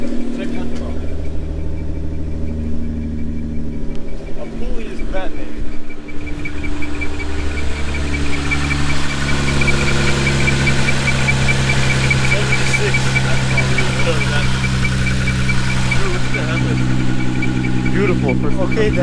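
The engine of a wrecked car runs at a steady idle with a continuous mid-pitched rumble and a faint ticking, while people talk nearby.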